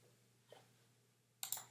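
A computer mouse gives a faint single click, then a brisker pair of clicks a moment later in a quiet room.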